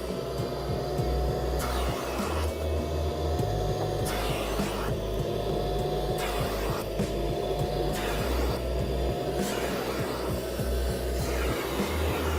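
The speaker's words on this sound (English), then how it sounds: "Then I'm going to turn my vacuum on." A Karcher Puzzi 10/1 carpet and upholstery cleaner vacuum runs with a loud, steady droning motor whine, its pitch wavering slightly as the nozzle is drawn across fabric in repeated strokes.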